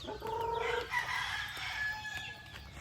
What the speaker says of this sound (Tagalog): Ang mga manok nato.